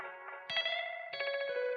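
An iOS app emulating the Echo B2 classic Italian tube echo machine plays sustained tones with swelling repeats, each new note blooming into a rich, layered echo tail.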